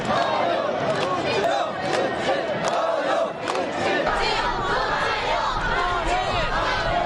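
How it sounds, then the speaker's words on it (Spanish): A large North Korean crowd roars and claps in a sustained ovation for Putin, loud and continuous, with scattered shouts rising above the din. "Una ovación por parte del pueblo norcoreano a Putin"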